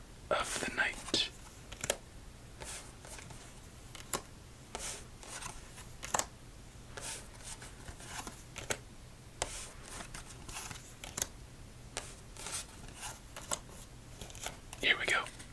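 Playing cards for a solitaire game are shuffled and handled in quiet, close, soft riffling and tapping bursts, with faint whispering throughout.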